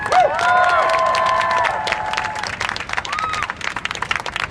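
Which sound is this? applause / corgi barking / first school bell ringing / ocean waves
applause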